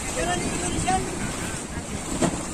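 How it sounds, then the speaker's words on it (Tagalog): Broadband wind and water rumble of a small boat out on open water in Romblon, Philippines, steady and fairly loud, with a brief louder splash near the end. "Maliit lang ang bangka na sasakyan natin na ito"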